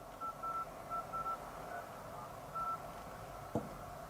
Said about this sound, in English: Call a phone number.